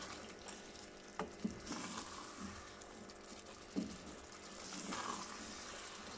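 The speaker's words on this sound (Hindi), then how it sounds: "अब इसको भूनेंगे अच्छी तरह से।" Mince being fried in a pot over a weak, low gas-stove flame, giving a soft, quiet hiss of sizzling with a few scattered knocks and scrapes from stirring.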